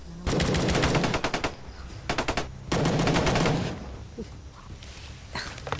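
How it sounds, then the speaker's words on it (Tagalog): Bursts of rapid gunfire ring out from above during a firefight with bandits, loud and close, arriving in three clustered volleys of sharp repeated shots with a brief lull and fainter shots near the end. "Diyan sa itaas nang gagaling yung mga putok."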